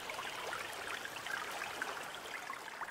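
Flowing river water in an interactive sound art installation, a soft continuous trickling stream with light splashes, steady and fairly quiet.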